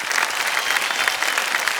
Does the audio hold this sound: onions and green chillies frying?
no